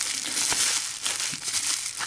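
Keys being unwrapped from crinkly plastic packaging make a continuous close crackling and rustling that runs steadily throughout, with no talking.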